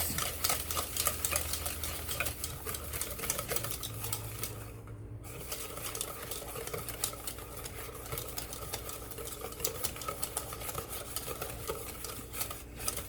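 Banana loaf batter with egg being mixed in a bowl, a steady stream of rhythmic scraping and stirring strokes, close and fairly constant, with no talking.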